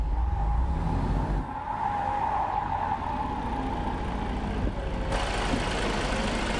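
A video-game truck is stuck with its wheels spinning, a steady loud engine drone and tire skid whine that runs continuously with no talking.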